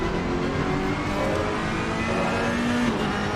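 A Ferrari race car at the Nürburgring in a racing video game, heard onboard: a loud, continuous engine roar with rising and shifting revs and no break.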